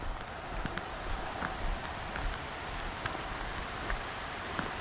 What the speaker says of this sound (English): Now it's pouring rain.